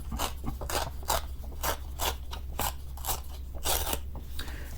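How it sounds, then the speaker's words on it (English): Scrap paper is torn by hand toward the body in a steady series of short ripping bursts, close and crisp, with no talking. "So all you need to do is literally tear it towards you like that."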